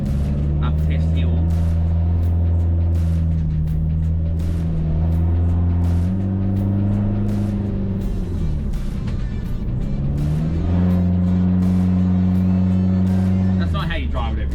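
Hyundai iLoad turbo diesel van with an aftermarket exhaust pulling hard up a test hill, a steady low droning engine note rising and falling through the gears, loud and close, with people talking over it.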